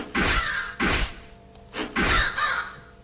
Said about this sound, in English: there goes the crow